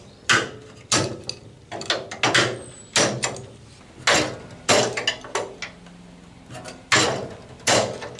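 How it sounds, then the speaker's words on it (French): Vise grip pliers are clamped repeatedly along a folded Xantia seat support to crush the reinforcement, giving a series of sharp, close metallic clacks and squeezes, about a dozen spaced a half-second to a second apart. "Avec une pince étau, voilà, j'écrase bien"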